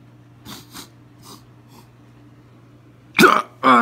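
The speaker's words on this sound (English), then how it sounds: "Now I go ahead and try to sniff it." Someone sniffs a junk-food snack up close with a few soft, short inhales, then two louder, sharper snorting sniffs near the mic.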